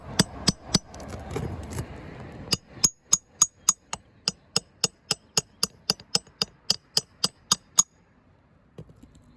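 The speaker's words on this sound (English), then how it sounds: "Here, maybe if I tap it with the hammer." A hammer taps a caulked roof seam in a steady run of about seventeen sharp, close knocks after a rougher scraping start, then falls quiet.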